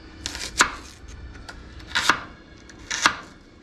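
A knife cuts garlic and onion on a board in three crisp, separate chops spaced about a second apart, close and clear against a quiet background.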